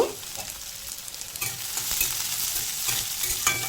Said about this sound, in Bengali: তেল গরম হয়ে গেলে আমি এখানে দিয়ে দিচ্ছি শুকনো লঙ্কা আর পাঁচ ফোড়ন